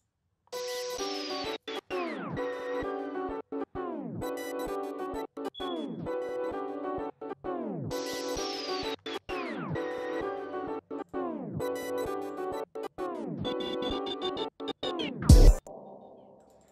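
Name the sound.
electronic beat with glitch effects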